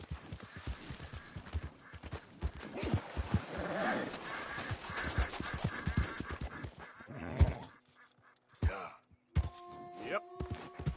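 A horse gallops in the Western video game Red Dead Redemption 2, with rapid rhythmic hoofbeats clip-clopping throughout, thinning out near the end, while a voice speaks occasionally.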